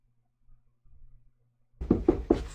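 Three sharp knocks strike a door in quick, even succession after a stretch of near silence with only a faint low rumble.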